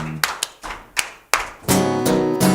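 Hands clap along to a song during a Sunday church service, a few sharp separate claps at first, then a music-like tonal passage with more claps mixed in, close and loud.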